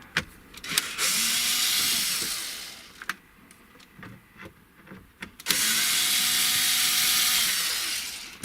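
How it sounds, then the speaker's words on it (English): Phillips screws come out of a Dodge Ram dash console, heard as two bursts of whirring power-driver spin, with clicks and handling noises from the plastic trim between them. "there's a couple of Phillips screws up there, so we're going to go ahead and take that out"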